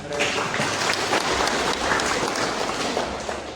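A crowd applauds with dense, sustained clapping from start to finish, at a wedding ceremony.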